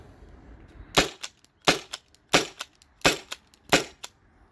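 Five sharp launcher shots from a Byrna SD less-lethal launcher upgraded with a 12 gram CO2 cartridge, evenly spaced about two-thirds of a second apart, close and crisp with no talking.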